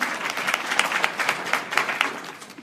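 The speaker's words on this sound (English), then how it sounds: "I think that deserves a round of applause" An audience at a town hall meeting applauds, a short burst of dense, even clapping from many hands that holds steady for a couple of seconds.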